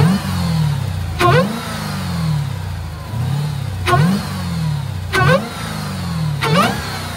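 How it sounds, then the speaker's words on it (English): A warmed-up Dodge Hellcat engine is revved in several short, sharp blips over a low idle, each rising and falling quickly, loud and close. "we're gonna let this bad boy warm up, and then I'll give you guys some revs so you can hear the difference"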